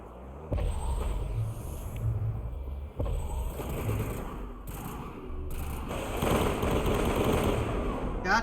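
Rapid automatic gunfire from the Mass Effect video game crackles in repeated bursts of moderate loudness, with brief gaps between volleys and a fuller barrage near the end.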